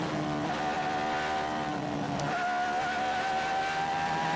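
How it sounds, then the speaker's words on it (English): A 1988 Formula One race car screams at high revs as it accelerates hard along the track, its engine note rising steadily and loud throughout, with no talk. "And then hard on the accelerator, back up to over 300 kilometres per hour."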